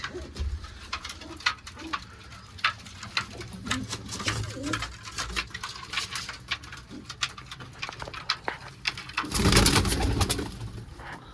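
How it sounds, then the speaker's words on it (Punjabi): Pigeons coo softly while being taken out of their enclosure, with dense pattering, fluttering and scratching movement throughout and a louder burst of wingbeats and rustling near the end, close by. "ਲਓ ਜੀ ਕੱਢਦੇ ਆ ਕਬੂਤਰ"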